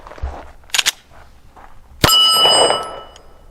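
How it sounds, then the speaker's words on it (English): A 9mm round from a GForce Exodus RPX9 pistol, a budget Glock 19 clone loaded with CCI ammo through a Glock magazine, slams into a steel plate with one sharp crack and a lingering metallic ring, after a softer burst earlier. "let's try 15 rounds of the CCI ammo with a Glock magazine on this steel plate"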